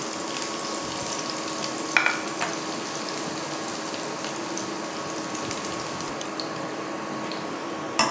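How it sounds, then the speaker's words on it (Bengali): Garlic fries in hot oil with a continuous close crackling sizzle for an Indo-Chinese chicken Manchurian, with an occasional light clink of the spoon against the pan and no talking. "রসুনটা একটু ভেজে নেব।"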